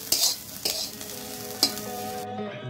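Bottle gourd peel fries in a pan: three sharp spatula scrapes and clinks over a low, soft sizzle, close by, with no talking.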